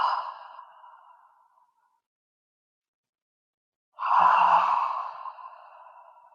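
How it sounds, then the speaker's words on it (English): Two slow, airy exhalations out through the mouth during a calming breathing exercise with gentle rib-cage tapping: one fading at the start, then a long pause of silence, then a fuller breath out that trails off. "breathing in through the nose and out through the mouth."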